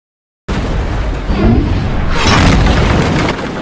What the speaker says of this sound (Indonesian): Nedenov langsung melepaskan tembakan hingga tank panzer itu pun hancur